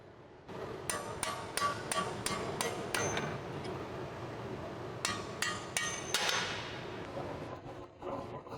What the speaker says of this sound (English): Grab the hammer and punch to drive out the bolt.